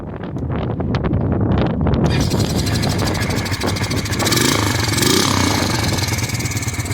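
A four-wheeler ATV engine runs after a carburetor rebuild, idling steadily and loudly outdoors with rumbling wind buffeting on the microphone, no talk.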